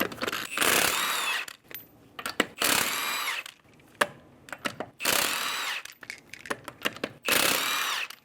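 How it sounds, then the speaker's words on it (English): An impact wrench removes the five lug nuts with a 21mm socket from a 2011-2014 Hyundai Sonata, running in several loud, buzzing bursts of one to two seconds with short quiet pauses between them. "Using a 21mm socket, remove the 5 lug nuts."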